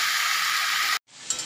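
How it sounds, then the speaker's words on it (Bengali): Meat being fried down with onions, cumin and coriander powder in a pan, giving a loud, steady sizzling hiss that cuts off abruptly near the end before a fainter sizzle returns. "মাংস কষা হচ্ছে"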